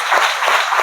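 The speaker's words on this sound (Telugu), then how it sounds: "ఒక్కసారి ఆ బిడ్డల్ని మనం చప్పట్లు కొట్టి అభినందించాలి." A church congregation claps in applause, a dense, steady patter of many hands that swells slightly in waves, fairly loud and close, with no talking over it.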